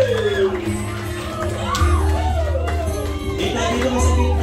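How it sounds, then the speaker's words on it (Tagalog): At a debutante's celebration, a crowd cheers, whoops and shouts loudly, with rising and falling yells layered over a low steady hum of background music. "Palakpakan po natin na may kasamang sigawan"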